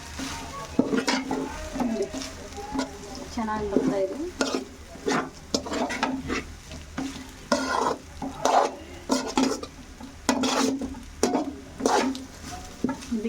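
Tempering sizzles in a pan for vegetable fried rice while a spoon stirs and scrapes in quick repeated strokes, the frying hiss continuous underneath; a voice speaks briefly over the cooking.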